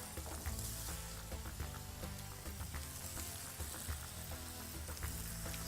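Paprika and fresh tomatoes frying with onions in a pan for patatas bravas, a faint continuous crackling sizzle like light rain, with occasional soft stirring, no talking.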